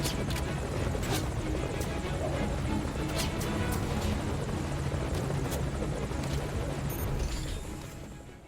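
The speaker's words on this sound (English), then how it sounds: "Our chopper has finally reached the destination and it's the best time we leave the base." A helicopter arriving in the stealth action game Metal Gear Solid V: Ground Zeroes, its steady rotor chop and engine roar loud and continuous throughout, with a few sharp clicks on top, before fading slightly at the end.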